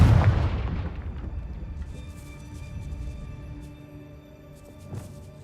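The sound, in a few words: Confringo fire spell explosion in a wizard video game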